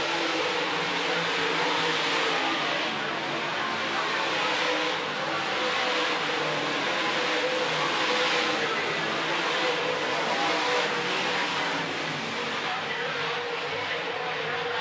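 Late model race cars circle a dirt speedway, their engines merging into a continuous, loud, droning roar that holds steady throughout, without a clear pass-by.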